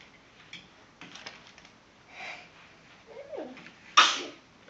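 A single sharp sneeze bursts out at a home on Easter morning, close and loud after quiet rustling and a few soft ticks and breaths.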